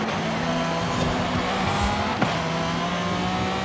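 A Pagani Zonda R engine held at full throttle while racing in Forza Horizon 5, a steady high-pitched wail from the video game with a quick shift blip partway through, no talk.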